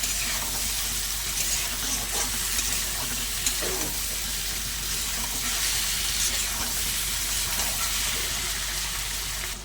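Taro stolons, potatoes and fried shrimp being stirred together in a pan, a continuous loud frying hiss with occasional faint stirring knocks underneath.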